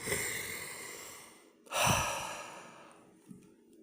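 A single slow, deep breath drawn in close to the microphone and then let out in a long sigh, with a quiet room around it and no talking.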